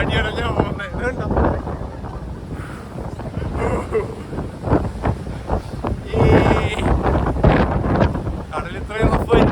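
Gusty Atlantic wind buffets a Doolin ferry riding through rough sea, with a constant roar of wind and rushing water around the boat and voices faintly mixed in.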